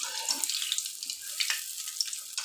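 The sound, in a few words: deep-frying dahi vada batter in oil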